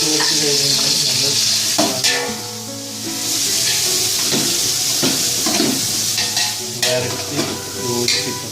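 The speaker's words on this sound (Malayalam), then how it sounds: "അടുത്തത് നമ്മൾ അരിഞ്ഞ സവാള ഇടുന്നതായിരിക്കും." Chopped onions frying for chicken majboos hiss loudly in a pan under a steady sizzle, broken by repeated scraping and clinks as a spoon stirs them.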